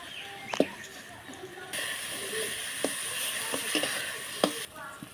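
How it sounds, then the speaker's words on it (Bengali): Spice paste for a sorputi fish curry fries with a soft, intermittent sizzle that swells in the middle, punctuated by a few scattered clinks and scrapes of stirring. "মশলাটা সুন্দর করে কষিয়ে নিয়েছি"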